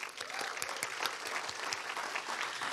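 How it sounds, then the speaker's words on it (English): At a tech innovation awards ceremony, a crowd applauds in a continuous, even spread of many hands clapping, moderately distant and soft, lasting the whole short stretch with no speech. "Give yourself a round of applause."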